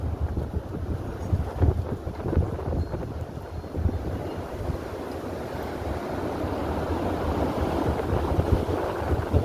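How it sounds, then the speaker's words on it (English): Strong wind blows steadily outdoors on the east side of Newark, Ohio, during a storm that brought down trees and power, roaring and buffeting the microphone in a continuous loud rush with no voices. "The wind's still blowing."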